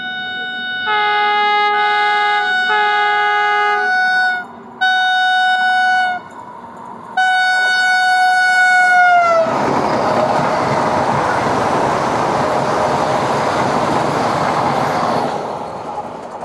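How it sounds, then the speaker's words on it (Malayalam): A Vande Bharat Express overtakes a stopped train, its horn sounding in several loud, long blasts before the roaring rush and rattle of the passing train take over and continue steadily. "വന്ദേ ഭാരത് എക്സ്പ്രസ് നമ്മൾ ഓവർടേക്ക് ചെയ്യാനുള്ള സ്റ്റോപ്പാണ്."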